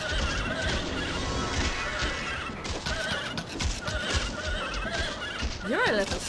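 In the video game The Bard's Tale, a horse whinnies with a short, rising and falling call near the end, over continuous game sounds and a voice talking.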